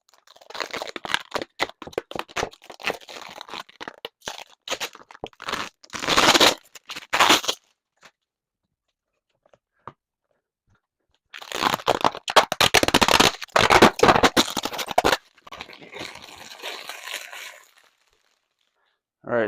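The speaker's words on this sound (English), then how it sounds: "It's definitely not the most satisfying protective film removal I've ever heard." Protective film is peeled off a golf cart in bursts of crackling, crinkling plastic, with long loud stretches split by a few seconds of silence and a shorter, softer peel near the end.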